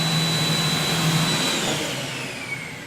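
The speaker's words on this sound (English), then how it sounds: "if you listen to the pump, you should hear it change" A steady, loud whine and whoosh from a no-touch cleaning system's internal pump while priming, its tone gradually shifting and dropping, with no talking.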